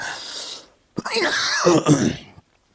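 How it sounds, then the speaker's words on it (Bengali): Several coughs in quick succession from a man during an Islamic question-and-answer talk, near and fairly loud, with a brief gap between bursts and no speech. "হঠাৎ করেই কাশি অনেক বেশি হয়েছে।"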